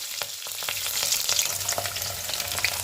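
Green chillies and onion sizzle and crackle in hot oil already seasoned with cumin and mustard seeds, with close, steady frying noise and occasional stirring scrapes.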